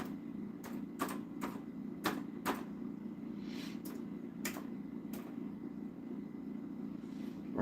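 Keys tap on a computer keyboard in a workshop, a scattered series of light, sharp clicks spaced unevenly over a steady low hum.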